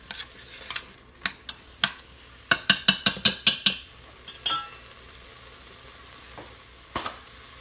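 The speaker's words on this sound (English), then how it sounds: "I'm going to saute these just a little while" Vegetables with garlic and seasonings being sautéed in an Instant Pot for Cajun cabbage soup: a soft sizzle under a spoon stirring and scraping, with a quick run of sharp metallic clinks in the middle and no talking.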